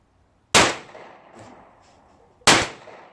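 Two loud gunshots from a TNW ASR rifle ring out about two seconds apart, each a sharp crack with a metallic ring and a decaying tail as rounds hit a small steel target, with no speech.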